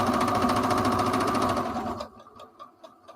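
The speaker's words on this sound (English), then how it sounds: "I'm using my 1/4 inch seam foot because I'm doing a 1/4 inch seam all the way down." A sewing machine fitted with a quarter-inch seam foot runs a quarter-inch seam at speed, a loud rapid rhythmic whir that stops after two seconds, followed by a few slower needle stitches.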